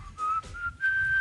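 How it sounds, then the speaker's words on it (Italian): A person whistles a short, clear melodic phrase, a few bright sustained notes with brief breaks between them, close and distinct with no talking. "forse oggi avremo anche il piacere di sentirlo fischiettare"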